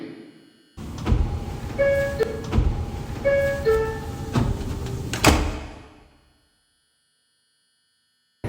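New York subway 2 train doors closing at a station, a series of loud thunks with a ringing two-tone chime repeated twice, then a final heavy slam before quiet.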